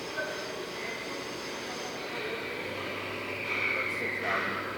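A TRAK 2OP vertical machining center spindle running at 2,500 RPM gives a steady mechanical whir with faint tonal whine and a rising high squeal toward the end, moderately loud with a voice talking faintly underneath.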